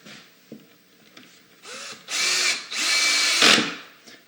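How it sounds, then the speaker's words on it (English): A power drill whirs in rising bursts, driving a self-drilling screw into plywood with a grinding, straining tone, then stops; no talking. "the screw does its own drilling, and it's going to push down"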